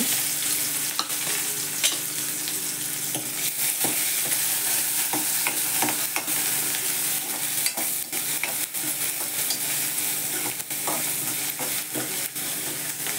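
Onion with crushed ginger and garlic sautéing in hot oil in a pan: a constant sizzle broken by frequent sharp scrapes and clicks of a spatula stirring, close and busy throughout, with no voices.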